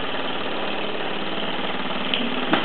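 Mamod SE1/2 model steam engine runs steadily with an even, rapid chuffing and mechanical whir, close and continuous, with a couple of small clicks near the end.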